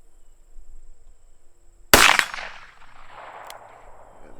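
A single sharp crack of a .22 Magnum revolver fired outdoors at a long-range target, loud and abrupt, followed by a brief decaying echo and quiet ambience.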